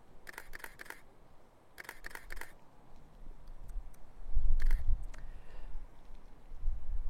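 A single-lens reflex camera fires its shutter in quick bursts of crisp mechanical clicks, two clustered runs, then a lone release, close and alone against a quiet hiss with some low handling rumble.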